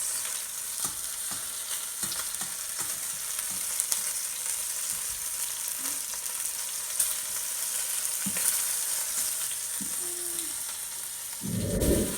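Venison shanks fry and sizzle in very hot oil, a steady dense crackle running the whole time with occasional louder spits and pops, close and alone with no talking.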